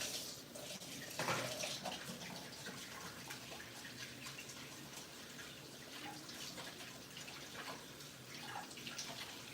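Hands being washed under a running tap at home, a steady close rush of water with splashing shifts as the hands move through the stream.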